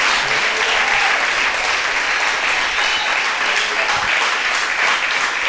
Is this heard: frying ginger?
no